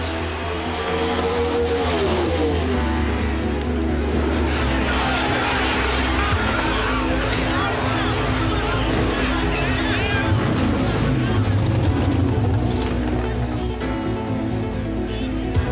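Bob Glidden's NHRA drag racing car crashes at the 1986 Southern Nationals, a loud roaring engine and screeching, skidding tire noise sustained throughout beneath an announcer's commentary.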